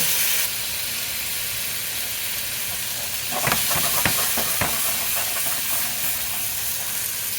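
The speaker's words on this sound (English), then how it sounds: "I'm just going to add a little bit of water to create some steam." Steady steam hiss as water is added to a hot pan while cooking a vegan Tex-Mex breakfast, with a burst of sharper crackles and sizzling midway before settling back into a constant hiss.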